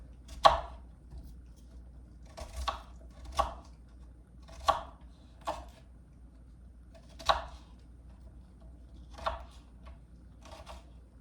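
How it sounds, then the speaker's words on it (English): An onion being chopped by hand, about eight sharp knife strikes on a cutting board spaced irregularly over a quiet background, close and crisp. "Just chop this onion up."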